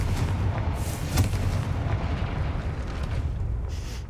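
Confringo blasting spell in the video game Hogwarts Legacy, a loud sustained roar of fire and rumble lasting several seconds, with a sharp burst near the start and a crackling tail, no talk.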